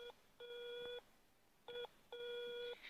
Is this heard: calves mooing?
no